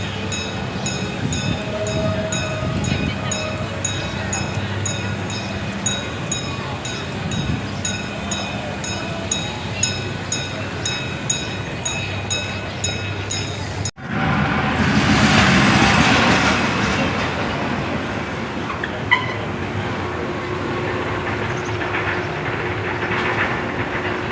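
An amusement park train at Six Flags Great America rumbles past with rhythmic clicking, then a loud burst of rushing noise swells and lingers as it moves through.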